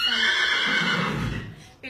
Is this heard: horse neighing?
yes